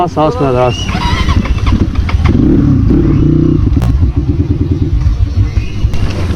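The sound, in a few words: motorcycle riding on a slippery muddy road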